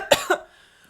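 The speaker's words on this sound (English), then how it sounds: "sorry if you don't like choking or coughing" A person coughs twice in quick succession, close and fairly loud, then quiet follows.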